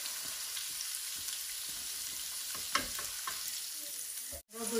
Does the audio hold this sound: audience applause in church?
no